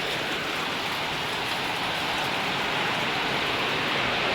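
Heavy rain pours down as a dense, unbroken hiss that stays loud and even throughout, with no voices over it.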